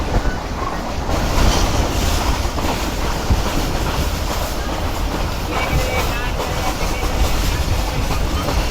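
The Islamabad Express runs on rails toward Gujrat with a loud, continuous rumble and rhythmic clickety-clack of wheels over joints, close and steady across the whole stretch.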